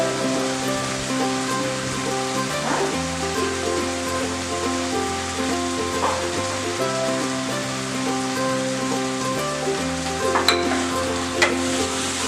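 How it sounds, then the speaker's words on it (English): Coriander, red chili and turmeric powder stirred in a frying pan, a steady close sizzle of hot oil with scraping stirs and occasional clinks of the spoon against the pan, no talk. "add the coriander powder, red chili powder, a pinch of turmeric powder and stir it."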